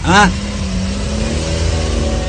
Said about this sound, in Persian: شوکت رفیقم با ماشین خودش آمد